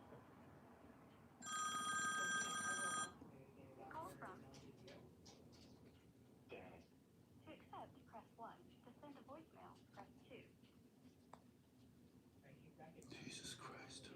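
A telephone rings clearly for about a second and a half with an incoming call on a live stream, followed by quiet murmuring and talking in the room.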